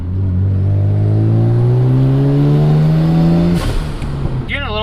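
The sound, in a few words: Mazda RX-7 FD engine revving while driving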